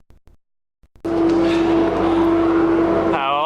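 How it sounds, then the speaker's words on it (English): A heavy truck roars up loudly from behind on a road, its engine noise swelling suddenly and holding strong, with a rising whine near the end after a few faint sounds. "I hear a big truck coming up behind me"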